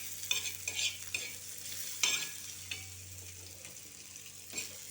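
Onion frying in oil, with a soft continuous sizzle broken by several sharp scraping stirs of a spoon against the pan, close and fairly quiet.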